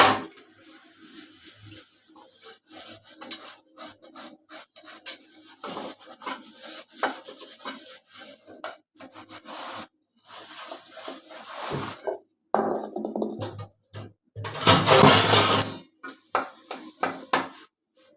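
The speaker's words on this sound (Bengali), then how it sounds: "বাসন মাজতে হবে।" Dishes are scrubbed and washed by hand, with rasping and rubbing strokes in irregular bursts broken by short pauses, close and fairly loud, and a louder stretch of splashing scrub near the end.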